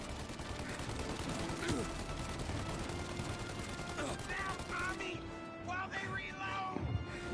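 Gunfire in the video game Mafia: Definitive Edition, with dense, continuous bursts of shots and impacts forming a loud, chaotic wall of noise while voices talk over the firefight.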